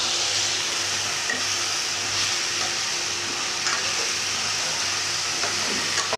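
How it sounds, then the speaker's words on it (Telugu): Mushrooms fry in a hot pan with a loud, steady sizzle while a spoon stirs and scrapes through them, continuous and close. "అంతా ఫ్రై చేసేసాక మష్రూమ్ని కూడా బాగా మిక్స్ చేసుకుంటే బాగుంటుంది"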